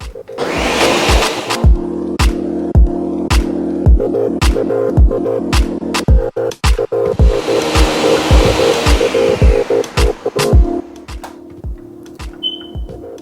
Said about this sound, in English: So I'm gonna put back my lid on. So let's blend it one more time.